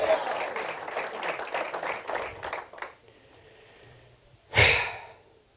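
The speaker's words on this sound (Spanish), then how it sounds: "Démosle palmas al Rey, hermano." A church congregation claps in a burst of dense, steady applause that fades after a few seconds, followed by quiet and then a short loud breath or exclamation near the microphone.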